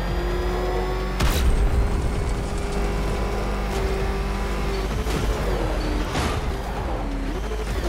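A race car engine from the Batman Arkham Knight video game drones loudly and continuously, its pitch rising and falling through gear shifts, with a few sharp whooshing bursts as it speeds along.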